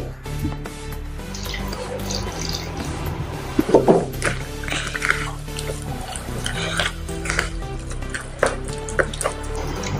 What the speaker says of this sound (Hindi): ये देखो मैंने पानी डाला है आधा गिलास।